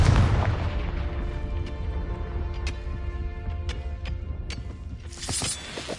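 Confringo fire-spell blast in Hogwarts Legacy: a heavy, booming impact up front trailing into a long low rumble, dotted with sharp crackles and pops, and a bright hissing burst near the end.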